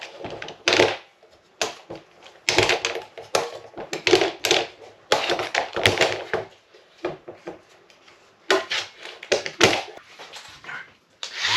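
Clamps come off a glued-up wooden panel in a small workshop: bursts of knocking, clacking and rattling metal against wood, spaced irregularly with quiet gaps between, close by and fairly loud.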